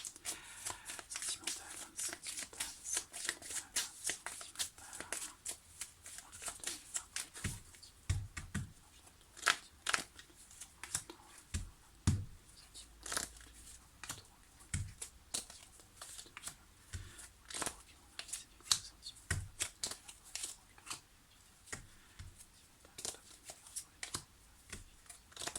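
Tarot cards are shuffled for a reading, giving quiet, rapid riffling and slapping bursts that repeat irregularly over a long stretch, close by.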